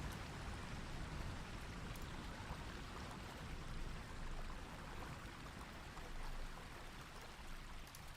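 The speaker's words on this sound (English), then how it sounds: "Another thing I would do is make better looking waterfalls in LOTRO." A waterfall in the video game LOTRO rushes as a steady, dense roar of falling water, constant and fairly quiet, with no voices over it.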